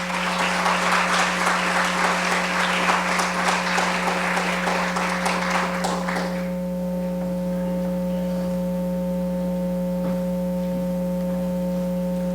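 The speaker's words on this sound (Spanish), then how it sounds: "vamos a recibir con un aplauso a nuestro director, don Jorge, que tiene unas palabras para ustedes" An audience applauds to welcome the director at a formal event, dense steady clapping for about six seconds that then stops abruptly, leaving a constant electronic hum.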